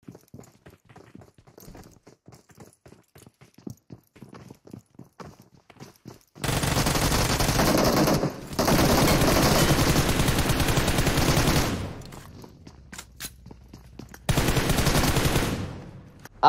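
A squad fight in PUBG Mobile plays out with light footstep-like ticks, then long, loud bursts of automatic gunfire, a brief pause, another sustained volley and a final short burst.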